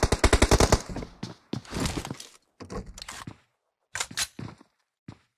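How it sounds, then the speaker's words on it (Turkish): Video game gunfire rattles through a battle royale match in rapid automatic bursts, then breaks into shorter volleys and single shots separated by brief silences, loud and close. "Mafya atışlarını yapıyor."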